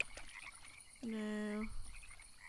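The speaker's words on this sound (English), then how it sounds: "I can hear frogs." Frogs croaking in The Sims 4 video game: a single sustained, steady croak of about half a second rises mid-clip over quiet game ambience, with no talking.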